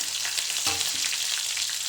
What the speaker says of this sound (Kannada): ಸಾಸಿವೆ ಕೂಡ ಸಿಡಿತಾ ಇದೆ